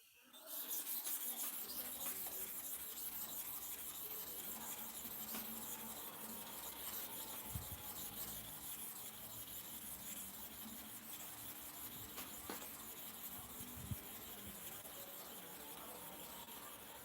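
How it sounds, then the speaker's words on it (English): Bottom clipper blade ground on a sharpening stone, continuous close gritty rubbing and rasping at low level, steady with a couple of light knocks, no talking. "Let us start with the sharpening on the bottom clipper blade."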